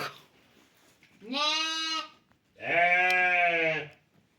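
Lambs bleat twice nearby, each call long and wavering, with a short quiet gap between them.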